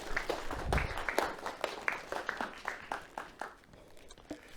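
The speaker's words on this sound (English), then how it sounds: "let's give him a round of applause" Applause from a school audience welcoming a guest lecturer, a steady patter of clapping hands over about four seconds at moderate, slightly distant level, with a few louder individual claps standing out.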